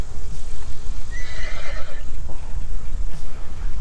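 The horn of an Urtopia Carbon 1S carbon e-bike plays a recorded horse neigh, a loud whinnying call with a wavering pitch rising and falling over a few seconds, heard up close.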